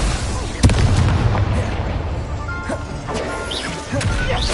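Fire spell cast in the wizarding video game Hogwarts Legacy, a sharp whooshing burst near the start followed by crackling, rumbling effects over a noisy game backdrop.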